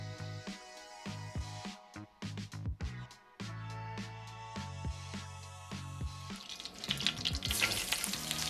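Lobster placed flesh side down into melted butter in a hot pan sizzles softly amid intermittent clanks and handling noises, building into a brighter, louder spatter toward the end.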